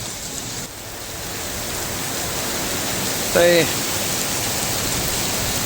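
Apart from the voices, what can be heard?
rain falling in Singapore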